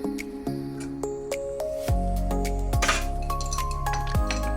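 A steam tap knob and its hexagon nut come off a Rocket R58 espresso machine with sharp metallic clinks, ringing pings and squeaky scrapes of metal parts, heard up close with no talking.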